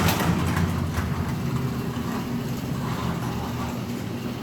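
A Master Blaster blower dries a freshly washed 2018 Can-Am Maverick X3 XRC with a loud, steady, close rushing drone that holds level throughout, with no talking.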